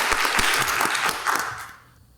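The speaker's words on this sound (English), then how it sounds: "Can we get one more round of applause?" Round of applause from a live audience at a chemistry trivia show, a short burst of crowd clapping with a few distinct claps up front that quickly fades to quiet.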